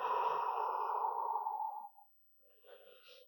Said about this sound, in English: I'm breathing out loud so you can hear me.